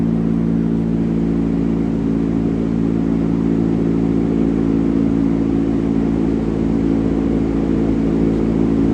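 A turbocharged 5.3 LS V8 with a 92mm turbo runs on a dyno, a loud, steady deep droning hum with strong low harmonics holding constant throughout, no talk.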